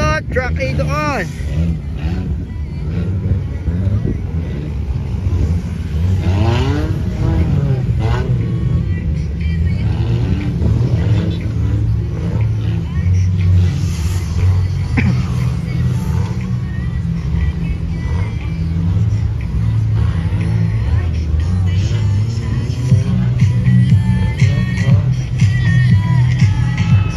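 Suzuki Escudo and Vitara trucks race side by side, their engines droning and revving steadily and loud throughout, with someone talking over the engine noise.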